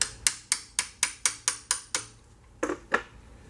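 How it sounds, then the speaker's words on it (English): Sharp metallic hammer taps on a wrench ring out in a steady series of about nine strikes, then a short pause and a few more uneven knocks, close and clear, while loosening a bolt on a Mopar transmission. "And just to loosen it, I got a hammer."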